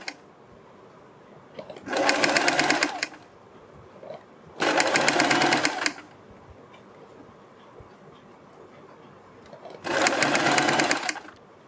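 A sewing machine stitches the V-shaped neck of a kurti in three short bursts of rapid whirring, close and loud, separated by quiet pauses.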